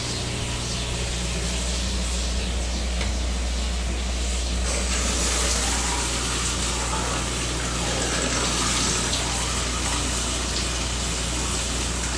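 Water runs steadily from a bathroom faucet during a home inspection, a dense continuous gushing rush that stays loud and unbroken throughout.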